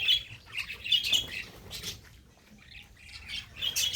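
Pet lovebirds kept as pairs in a small home colony chirp and squawk in shrill, overlapping bursts, close and fairly loud, with a short lull midway before the calls pick up again.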